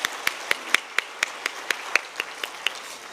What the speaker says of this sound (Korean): 일어나시면 박수로 환영하겠습니다